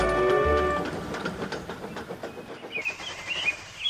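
A cartoon train pulls away with its coaches, a low rumble easing into a rhythmic clickety-clack of wheels that thins out, with faint chirping high above near the end.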